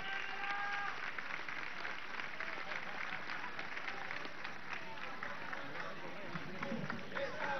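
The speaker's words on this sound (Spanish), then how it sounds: "Démosle un aplauso." A crowd at a Caracas-style street march for educational revolution with Maduro applauds union leader Luis Matos, a dense continuous wash of clapping and crowd noise, fairly distant, holding steady throughout.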